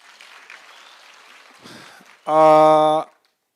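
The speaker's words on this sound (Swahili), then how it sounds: "Haya, pigeni Governor makofi." Applause for the Governor at a county security forum in Migori, a short burst of dense clapping lasting under a second, following a brief stretch of a speaker's voice.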